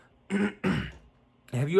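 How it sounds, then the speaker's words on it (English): A few short, rough throat-clearing bursts close to the mic, separated by brief pauses. "I have to like clear my throat"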